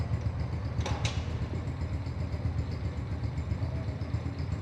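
Zonsen Super Star Cub 110cc clutchless motorcycle idling steadily with a gear engaged, a low even putter close by with a couple of brief clicks early on.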